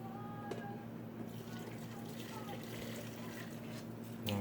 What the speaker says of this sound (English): Now I'm just going to pour some of this broth in here.